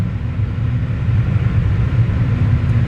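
Cabin of an electric VW ID4 rolling at about 20 km/h, a steady low road and tyre rumble with no engine note, continuous and close.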